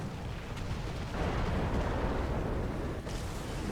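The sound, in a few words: burning tank exploding in War Thunder-style tank video game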